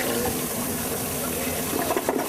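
Toilet flushing with its bowl overfilled with test media, a loud continuous rushing gush of water throughout, close up.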